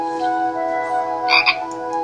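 A frog croak from a children's reading game rings out over a steady electronic tone, a short bright burst near the middle of a quiet game-like background.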